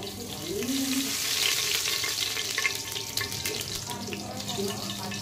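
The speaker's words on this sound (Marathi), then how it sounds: "चला आता आपण जिरे टाकून घेऊया।" Plenty of cumin seeds hitting hot oil in a pan for pav bhaji, a loud, close, steady sizzle with some stirring, while a voice talks lightly in the background.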